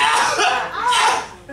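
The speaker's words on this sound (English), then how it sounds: "Stop coughing." A few harsh, close coughing bursts, loud and breathy, trailing into a raspy fade.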